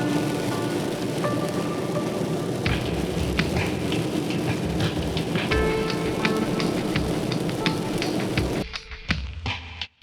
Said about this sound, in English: The rain finally dissipates as we head into Death Valley.